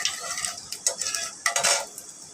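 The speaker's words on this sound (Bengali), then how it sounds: "কালো জিরেটা একটু ভালো করে লাড়া ছেড়ে দিয়ে নিব যাতে ভাজা ভাজা হয়ে যায়" Nigella seeds frying in hot oil for a fish curry give a light sizzle, broken by a few quick clinks and scrapes of a stirring spoon in the pan, close by and with no talking.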